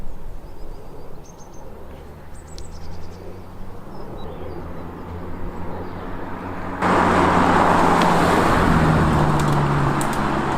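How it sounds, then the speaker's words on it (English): Audi R8 V10 with R-tronic gearbox driving on the road, a steady engine hum with road noise that swells suddenly into a much louder, rushing drone partway through. "Epic drive, and so good to be behind the wheel of an Audi R8, the V10 model with carbon ceramic brakes and an R-tronic gearbox"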